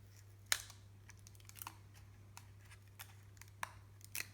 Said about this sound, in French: on va décoller de ce côté la feuille d'aluminium